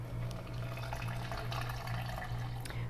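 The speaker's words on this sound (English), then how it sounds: "I'm going to put just a little bit of water down in the bottom." Small amount of water poured into the bottom of a drink shaker over protein powder for a pink protein drink, a steady continuous trickle and splash heard close up with a low hum underneath.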